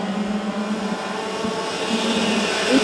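A pack of FP-3 class racing karts at the start of a regional championship final, a dense buzzing drone of many small engines that swells louder as they accelerate away.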